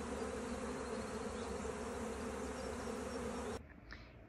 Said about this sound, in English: or maybe you see the bees swarming in the air like this.